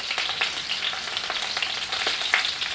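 Bitter gourds fry in hot oil with a steady broadband sizzle, broken by a few sharper crackles and pops, close and fairly loud with no voices.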